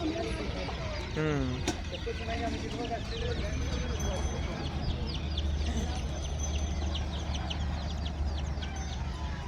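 Village hens cluck in short bursts throughout, over ongoing conversation and background chatter, with a sharp knock near the start.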